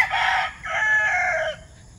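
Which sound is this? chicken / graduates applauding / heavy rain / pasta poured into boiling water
chicken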